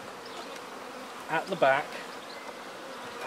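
A steady honey bee buzz hums throughout, like bees flying around a hive during swarm control with a Snelgrove board, while a brief spoken phrase passes in the middle.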